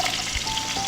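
Onions and tomato frying in a pan for chammanthi, a steady close hiss of sizzling oil with a faint scrape near the end, no voices.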